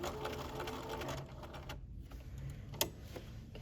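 A sewing machine runs steadily while back-stitching a double-needle topstitched hem, its fast mechanical whir pausing briefly before a sharp click and resuming at close range.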